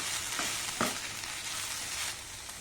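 Okra and cashews frying in a pan with salt, chilli powder and turmeric, a steady close sizzle with a couple of soft scraping stirs near the start, no talking.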